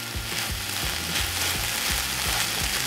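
Chicken browning in a pan for tacos gives a steady, loud sizzle of frying oil, with a faint low rhythmic scraping or stirring running underneath throughout.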